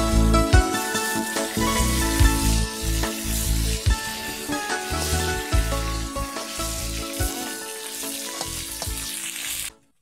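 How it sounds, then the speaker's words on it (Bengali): Pieces of rohu fish fry in oil in a wok, a loud, steady sizzle with bursts of crackling and spattering that cuts off abruptly at the end. "এটা হয়ে গেলে মাছটা ভাজা কমপ্লিট হয়ে যাবে।"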